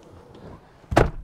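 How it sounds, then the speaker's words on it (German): A door on a 2021 Dodge Durango R/T with a 5.7L V8 HEMI is pulled shut from inside, giving one loud, close thud near the end after a quiet stretch of faint shuffling. "dann machen wir hier noch die Tür zu, damit es gemütlicher ist"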